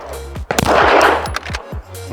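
A MAC 9 machine pistol emptying a magazine in rapid full-auto bursts outdoors, a string of loud, close, sharp cracks with brief pauses between.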